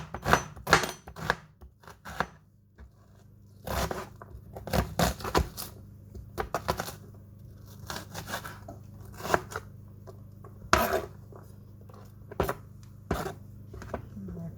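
A quarter of an onion chopped with a knife on a cutting board, giving a series of crisp, irregular close knocks, some in quick clusters and others spaced apart, against a quiet background.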